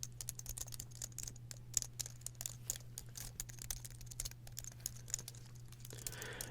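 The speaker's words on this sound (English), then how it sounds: "keyboard sounds were requested, and this one I can definitely do, because I just so happen to have a keyboard." Rapid, steady typing on a computer keyboard, crisp clicky keystrokes up close with a low electrical hum underneath.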